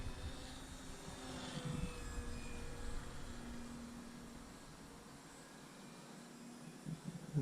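A Parkzone Sport Cub S2 electric RC plane flying knife edge passes overhead as a steady, fairly faint motor and propeller whine that shifts slightly in pitch, with no voices.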